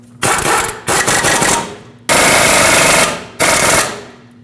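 A power tool drives caliper bracket bolts on a 2005-2021 Nissan Frontier, running in several loud, close bursts of rapid hammering rattle, with short gaps and fading tails between them.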